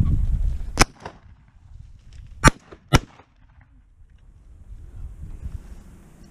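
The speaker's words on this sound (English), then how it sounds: "Takes a shot." Three sharp gunshots crack out at a pheasant, one early and two close together later, each loud and abrupt against a quiet outdoor background.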